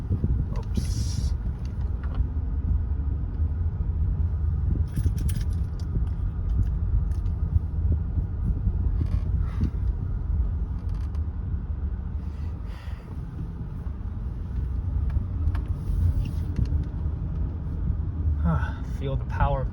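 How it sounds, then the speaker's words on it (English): A 2006 Lexus ES330 sedan, heard from inside while driving, gives a steady low engine and road rumble throughout, with someone talking over it. "Feel the power of the car."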